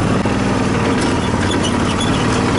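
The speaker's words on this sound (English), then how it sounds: "just a chain slapping" A go-kart with a 16HP V-twin engine runs steadily and loudly up close, its rough engine drone mixed with a rattling slap from the loose drive chain throughout.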